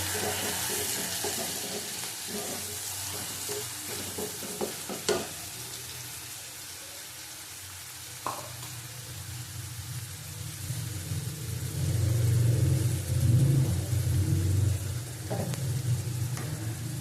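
Chopped onions frying for a green banana and potato curry, a continuous close sizzle with occasional spatula knocks, swelling louder toward the latter half.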